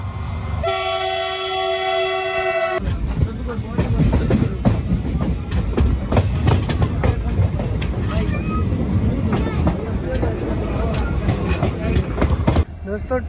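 An Indian general class passenger train gives a long horn blast, then runs on with steady clickety-clack of wheels over rail joints and the rumble of the carriages, loud and close, with voices in the background.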